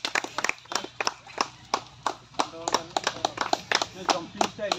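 People at a star performer award ceremony clap unevenly, with separate sharp claps scattered across a few seconds while voices talk over and between them.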